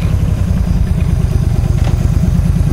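A motorcycle engine running on a chilly fall cruise in New York, a loud close throbbing rumble with steady rapid pulses.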